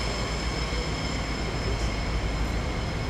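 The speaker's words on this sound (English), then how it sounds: "If you listen for a minute, you can hear a train off to our right." A train in Chicago rumbles steadily at a distance, a broad continuous roar of rails and wheels with no voices.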